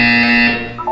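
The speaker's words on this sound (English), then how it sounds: "You will hear a buzzer. When you hear the buzzer, look down at the floor." A Portal 2 video game buzzer gives one steady, loud electronic tone that holds for most of the moment, then fades out near the end, with no talking over it.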